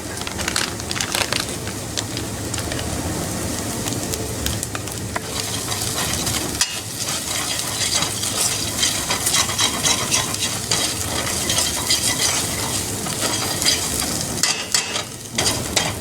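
Fish masala spice fries in a pan for a curry, a loud close sizzle broken by constant scraping and crunchy stirring strokes.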